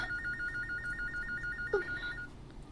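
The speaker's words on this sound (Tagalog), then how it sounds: "Ang telepono." An electronic phone ringtone warbles in a rapid repeating trill, moderately loud, ending after a couple of seconds over low room noise.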